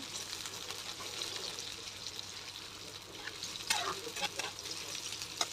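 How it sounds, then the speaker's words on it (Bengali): Chopped onion fries in a pan with nigella seeds, giving a soft continuous sizzle and some occasional stirring scrapes, close but quiet, with no speech. "পেঁয়াজটাকে হালকা সোনালি করে ভেজে নিচ্ছি।"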